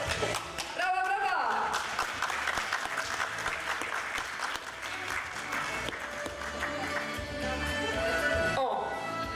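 Audience applause at a WOŚP charity concert at a cultural centre in Strzelce Opolskie, steady dense clapping filling the hall throughout, with a host's amplified voice and music mixed in over it.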